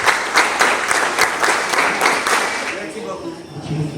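A crowd breaks into rhythmic, fairly loud clapping that runs for a few seconds, then tapers off as a voice begins speaking.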